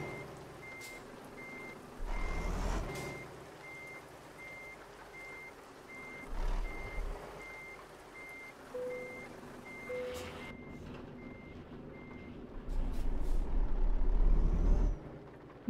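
A truck in Euro Truck Simulator 2 sounds a steady, evenly spaced reversing beep over a low engine rumble, with several loud hissing air-brake bursts cutting in along the way.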